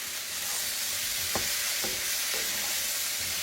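Zucchini, mushroom and onion sauté in butter, a low, even sizzling hiss with two or three brief spatula knocks midway, heard alone without speech.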